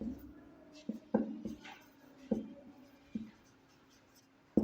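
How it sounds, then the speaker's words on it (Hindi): Pen or chalk writing on a surface, a series of short scratching strokes and taps at irregular intervals, close by, with no speech. "हम लिखते हैं"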